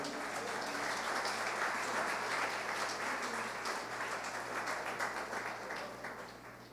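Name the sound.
church congregation applause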